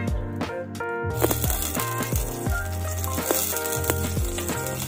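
Garlic fries in hot oil for lugaw or arroz caldo, with a bright, continuous sizzle and some crackle up close, plus a few stirring clatters and no one speaking.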